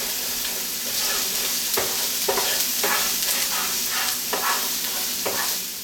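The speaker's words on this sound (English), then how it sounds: "make sure you scrape up any of these brown bits" A utensil scrapes up brown bits in a hot pan with pork medallions and shallots. It gives repeated rhythmic scraping strokes over a loud, constant sizzle close by.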